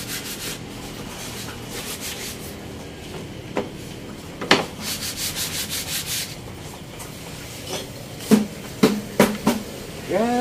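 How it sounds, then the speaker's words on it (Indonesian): Hand sanding of a concrete vent block mould, a steady scraping rub with a run of rhythmic strokes midway and a few sharper scuffs near the end; a faint voice is heard at times. "Dia lagi amplas."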